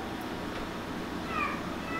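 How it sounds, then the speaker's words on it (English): An excited cat in a kitchen where fruit is being cut gives a faint, brief meow partway through, against a steady background hum. "The cat is meowing."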